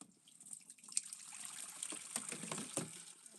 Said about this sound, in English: Oh, empty the water out, that would help, Dora.